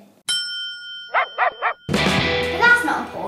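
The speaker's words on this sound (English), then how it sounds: "She has a cute dog" A dog gives three short, sharp barks in a quick row, close and clear, after a bright metallic ding, followed by busier mixed sound.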